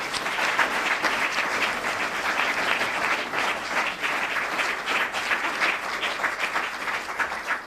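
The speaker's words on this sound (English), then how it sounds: "a big round of applause for our last Delwyn" A graduation audience applauds a graduate at the 2016 AIEF ceremony, the clapping steady, dense and full from start to finish with no voices over it.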